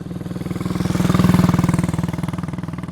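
A motorcycle engine putters close and loud in an audio drama, a rapid even chugging that swells in the middle and eases off again, heard alone.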